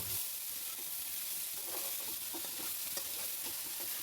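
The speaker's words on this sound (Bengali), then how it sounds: "আবার ওটাকে ভালোভাবে নেড়ে কিছুক্ষণের জন্য ভাজতে রেখে দেব" Vegetable spring roll filling with chili, salt and ginger paste frying in a pan, a steady close sizzle with soft scraping stirs throughout, no voices.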